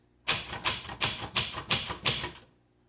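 A 1963 Royal Royalite manual typewriter has its backspace key struck six times in a steady rhythm, each press a sharp, close mechanical clack that fades quickly, with no voices.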